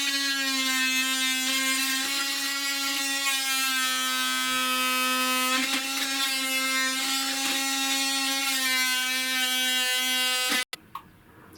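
A power tool with a worn blade removes shower tiles on a narrowboat, a steady, high-pitched whine running continuously and loud for about ten seconds, then cutting off abruptly near the end.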